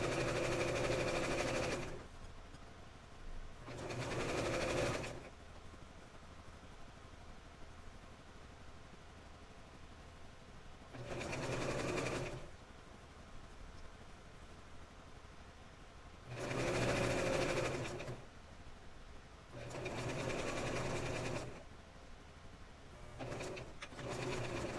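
A sewing machine stitching the seams of an 18-inch doll nightgown, running in several short bursts of steady whirring with quiet pauses between, close and moderately loud.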